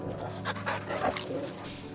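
A dog in the video game Final Fantasy XVI panting and whimpering softly in a brief, close burst of breathy sounds over a low game background.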